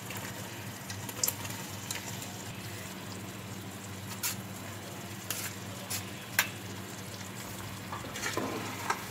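Boiled raw mangoes go into sugar syrup in a pot, giving a soft sizzle and bubbling with small splashes and stirring clinks, fairly quiet and continuous.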